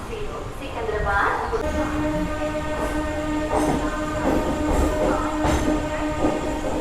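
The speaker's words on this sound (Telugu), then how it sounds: "మన ట్రైన్ విజయవాడ జంక్షన్కి 3:55కి అయితే బయలుదేరింది" MEMU electric commuter train pulling out of Vijayawada Junction, with steady rolling rumble, clattering wheels and a horn-like tonal blare, carrying on throughout at close range with people talking faintly in the background.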